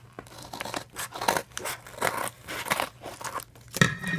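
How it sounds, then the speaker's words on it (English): Crinkly plastic packaging around Japanese erasers being cut and torn open, a close, irregular series of rustles, snips and crackles with brief pauses between bursts. "So I'm just afraid I might cut something."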